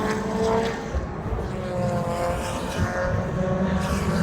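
A Honda Integra drives past at a JDM cars and coffee meet, its engine note steady and fairly close as it rolls through the crowd, with no talk over it.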